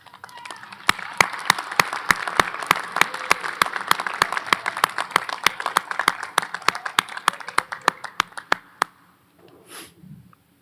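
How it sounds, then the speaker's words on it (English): A commencement ceremony audience applauds families and friends with sustained, dense clapping. Sharp individual claps stand out near the front for about nine seconds before the sound tapers off into a short murmur. "give them a round of applause"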